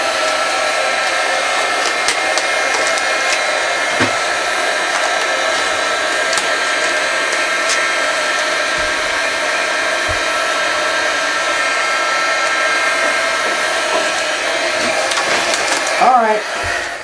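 A heat gun blowing continuously close by as it warms vinyl on a carved vertical-grain wood board, a loud steady airy whine that holds for the whole stretch, with a few faint knocks and some handling near the end.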